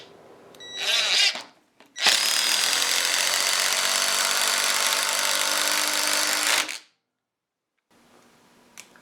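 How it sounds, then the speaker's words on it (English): A RIDGID Gen5X impact driver briefly revs, then hammers a 10-inch construction lag in one loud, continuous rattling run of about four and a half seconds before stopping abruptly, followed by a short quieter whir. "let's see the job it does driving this 10-inch construction lag"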